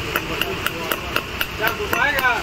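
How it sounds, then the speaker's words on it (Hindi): A bearing is hammered into the chain sprocket of a Royal Enfield Bullet motorcycle, giving a quick, regular run of sharp metallic taps with a faint voice in the background. "ये स्पॉकेट में बैरिंग ठोक दिया जाएगा"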